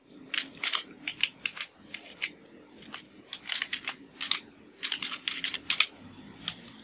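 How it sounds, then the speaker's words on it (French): Close, fast clicking of a computer keyboard as a password is typed, in irregular clusters of keystrokes with short pauses between them. "je dois retaper le mot de passe"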